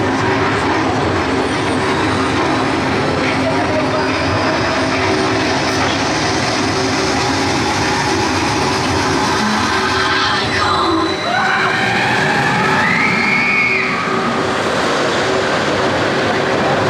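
A roller coaster train runs at Blackpool Pleasure Beach, with a loud, sustained mechanical rumble and roar that builds and shifts near the end, with no talk over it.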